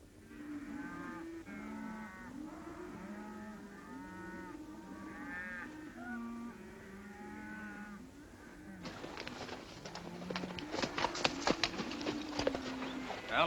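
Cattle low repeatedly in a herd rounded up in a basin in a 1950 western film, overlapping moos near and far, joined later by louder clip-clop of horses' hooves and a busier jumble of sound.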